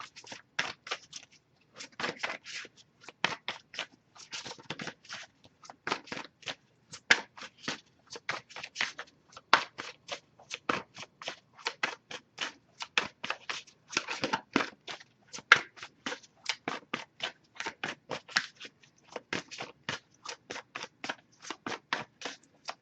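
Rapid riffle shuffles of a tarot deck, crisp fluttering bursts repeating in quick succession, close up with no talking.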